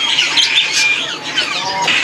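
Loud, shrill bird calls and squawks repeating in quick bursts at a bird market stall, close by, with faint background sounds.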